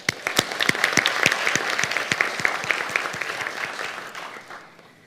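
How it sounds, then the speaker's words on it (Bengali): A debate-hall audience gives the chief guest, a national consumer rights director general, a burst of lively applause, dense clapping with sharp individual claps standing out, swelling briefly then tapering off to quiet by the end. "আমরা আমাদের সম্মানিত প্রধান অতিথি জাতীয় ভোক্তা অধিকার সংরক্ষণ অধিদপ্তরের মহাপরিচালক জনাব মোহাম্মদ আলিম আক্তার খানকে সবাই জোরে তালি দিয়ে অভিনন্দন জানাই।"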